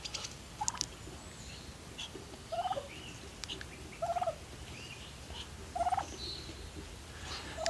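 A farmyard turkey gobbles in short rattling bursts repeated about every one and a half seconds, moderately near, alongside Muscovy ducks outdoors with no talking.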